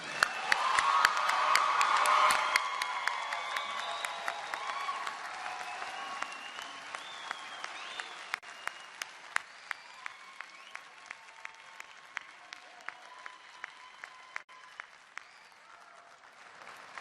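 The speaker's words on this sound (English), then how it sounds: "Okay, now applaud like you mean it for them." A commencement crowd applauds Bachelor of Science graduates, loud and dense at first with some cheering, then thinning to scattered individual claps that fade over the long stretch.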